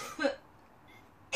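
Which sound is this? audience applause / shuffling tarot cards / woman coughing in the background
woman coughing in the background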